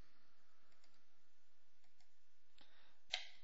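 Mouse clicks on a computer during geometry construction work, a few faint soft clicks followed by one sharper, louder click near the end, heard alone in a quiet room.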